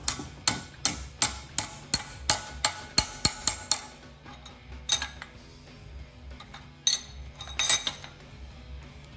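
Sharp metallic hammer blows on 14 gauge sheet metal held in a vise, a steady series of about a dozen close, ringing strikes, then scattered lighter taps and clinks, in a workshop on a 1932 Ford rebuild.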